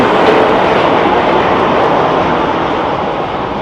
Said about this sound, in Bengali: চলে যাচ্ছে ঝুলন্ত ট্রেন ঝুলন্ত ট্রেন ঝুলন্ত ট্রেন